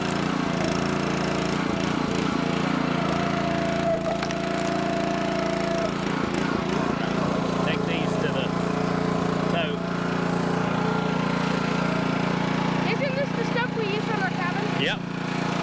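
A Split-Fire 2265 wood splitter drones continuously with its small engine close by while poplar and pine rounds are split, with people talking over the running engine.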